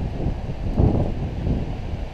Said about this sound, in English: Getting a little windy up here now,